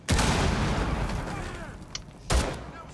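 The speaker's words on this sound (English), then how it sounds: "Grenade," A grenade goes off in the tactical shooter Rainbow Six Siege: a loud, close boom that decays with rumble, followed by a second sharp blast near the end.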